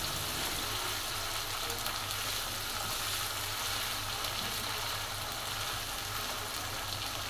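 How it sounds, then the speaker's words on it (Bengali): Ginger and garlic paste frying in a pan for a rui fish roe curry: a steady, even hiss of sizzling oil that holds without pause, fairly quiet and with no talk. "আদা রসুন দিয়ে একটু ভেজে নিব"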